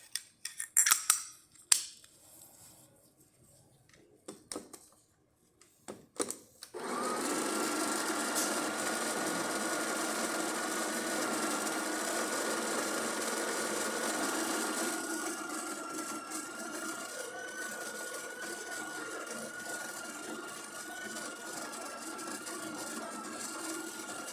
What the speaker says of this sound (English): So let's test the machine with this pressurized one, with this pressurized basket first.